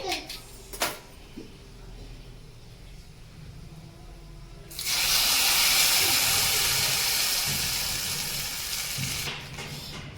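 Spices for a chutney tempering drop into hot oil and burst into a loud, steady sizzle that holds for several seconds, following a few sharp clinks and quieter kitchen noise.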